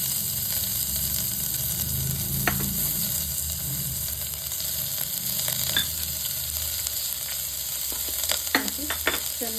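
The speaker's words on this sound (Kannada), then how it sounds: "ಆಮೇಲಿಂದ ಈರುಳ್ಳಿ, ಹಸಿಮೆಣಸಿನ್ಕಾಯಿ, ಕೊತ್ತಂಬರಿ, ಕರಿಬೇವು ಹಾಕಬೇಕು." Onion, green chili, coriander and curry leaves frying in hot oil in a South Indian kitchen give a steady close sizzle. Occasional scraping stirs and crackling pops come through, and no one speaks.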